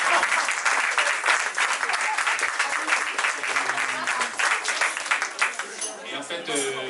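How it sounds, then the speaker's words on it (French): Audience applause for a first-prize winner at a literary festival in Paris's Goutte d'Or, dense sustained clapping with some voices mixed in, fading slightly near the end. "bravo, de gros applaudissements."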